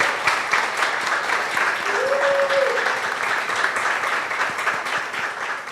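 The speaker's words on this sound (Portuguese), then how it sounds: "um aplauso para o Wellington Soares que ele está" Sustained audience applause for Wellington Soares at a literary talk event in Teresina, a dense, steady clapping that fills the whole stretch at even loudness, with a brief faint tone partway through.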